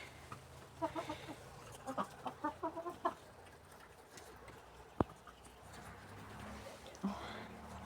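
Chickens cluck in short repeated bursts, close by, followed by quieter background noise and a sharp knock.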